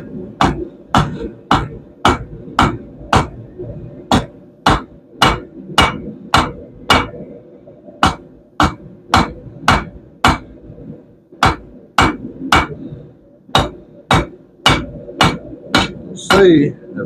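Steel is hammer-forged down to a flat taper for a swing arm cooker: about thirty sharp, ringing blows land in an even, close rhythm with brief gaps between runs of strikes.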